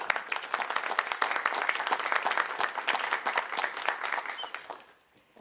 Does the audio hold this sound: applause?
yes